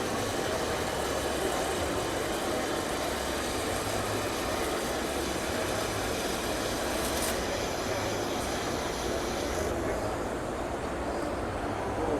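DC arc welding running beads on oxidized stainless steel: a loud, continuous crackling hiss over a low steady hum that holds throughout without pause.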